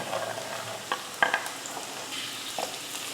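Broad beans tipped into sautéed onions in a pan, giving a soft sizzle with a few sharp clicks and scrapes of stirring, close and fairly quiet with no voices.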